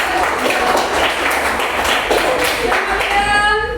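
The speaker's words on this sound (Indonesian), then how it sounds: "Kita tepuk tangan dulu." Students in a classroom clap their hands together in a loud, rhythmic burst close by, the beats falling in a quick patterned rhythm before fading as a voice rises at the end.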